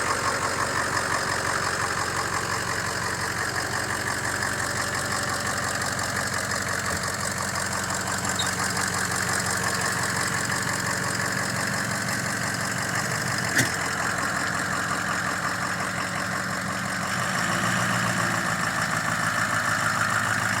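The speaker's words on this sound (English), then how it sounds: "A diesel truck." A 2006 Ford F250 Super Duty diesel pickup idles steadily and close by, a continuous low rumble with a faint knocking texture that holds evenly throughout, with no voices over it.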